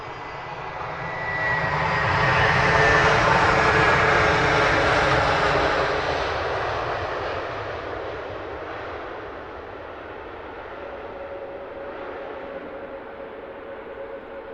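Aircraft engines roar at Luton Airport as a plane passes fairly close, swelling to a loud broad rumble over the first few seconds and then easing into a steadier, more distant drone with no speech.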